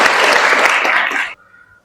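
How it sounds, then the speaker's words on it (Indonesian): An audience at an Indonesian university lecture claps in a dense, steady burst of applause that stops abruptly after about a second. "Beri tepuk tangan untuk Sundari."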